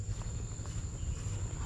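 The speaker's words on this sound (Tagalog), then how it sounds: "Yung mga humuhuni dito sa gubatan." Insects chirping in a forest after overnight rain, a steady high thin shrill tone held throughout, moderately faint over a low rumbling background.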